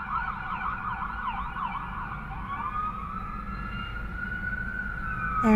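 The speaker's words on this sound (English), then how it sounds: "There's a siren." A wailing siren rises and falls in a steady cycle, then shifts to a long sustained tone, heard at moderate distance over a low traffic rumble.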